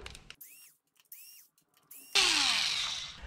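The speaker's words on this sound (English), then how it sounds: "with the T30 Torx, we're going to be removing these three bolts holding the rear mud flap on" A power driver with a T30 Torx bit removes rear mud flap bolts on a BMW R1200GS motorcycle, making three short close whirring bursts, then a longer loud burst that tapers off.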